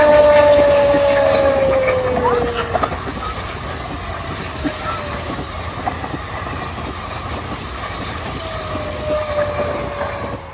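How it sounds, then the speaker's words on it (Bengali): A coal freight train rolls past outdoors, loud and near, with a drawn-out whistle tone early on, a steady rumble, rattling wagons and clickety-clack, and a second whistle tone near the end. "এই যে আর কয়লার ট্রেন আসছে"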